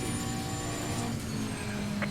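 A race car engine in the Assetto Corsa Competizione racing game, onboard at Silverstone, hums at a steady pitch, fairly quiet and even, with a brief higher whine near the end.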